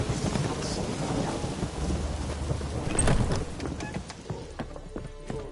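Rain and thunder in the video game The Witcher 3: a steady downpour hisses while sharp thunder cracks and rumbles peak midway, with horse hooves clopping and scattered clicks, no talking.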